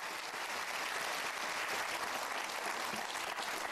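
A studio audience at the Who Wants To Be A Millionaire? UK quiz show breaks into steady, even applause, a dense wash of many clapping hands sustained throughout with no voices over it.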